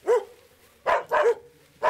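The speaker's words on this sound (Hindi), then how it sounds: "अपने डॉग्स भी वही देख करके भौंक रहे हैं।" A dog barks several times nearby, sharp yaps in a quick uneven run with short pauses, no voices.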